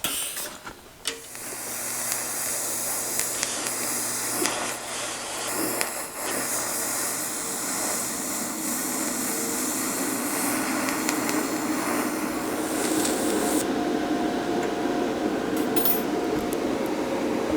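A TIG welder fills craters in a steel wheel, giving a steady hissing buzz that starts after a few brief clicks and holds continuously at close range for the rest of the stretch.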